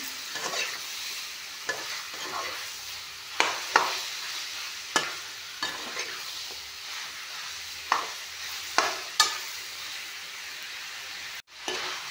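Local chicken meat frying in a pan, a steady moderate sizzle with a series of sharp clattering stirs from a utensil at irregular intervals, close and without talk.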